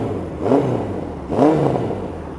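A Suzuki GS1000 motorcycle engine idles with a soft burble, rising in two brief revs about a second apart over a steady low rumble, moderately close and not very loud.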